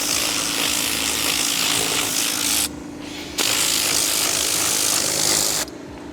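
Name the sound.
drill brush and blower cleaning car interior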